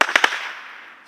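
A bottle rocket firework goes off with a sharp bang and two quick cracking pops, followed by a fading ringing tail, loud and close.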